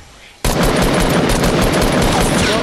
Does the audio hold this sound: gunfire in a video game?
yes